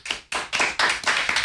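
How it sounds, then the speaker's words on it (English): About six sharp hand claps land in a steady, even rhythm at a casual music and comedy show, each one crisp and close, with short near-silent gaps between them. "And Brian, that applause is for you."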